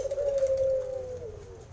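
Perkututan-type anggungan doves at a bird farm in Mojokerto give a single sustained coo, steady and fairly close, with faint background noise and no talking.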